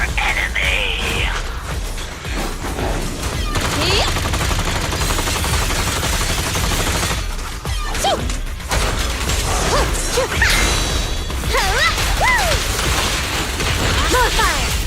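Heavy weapon fire from the Typhoon Challenger mech in Zenless Zone Zero, a loud dense barrage with bursts and whooshes running throughout, mixed with combat effects and voices talking over it.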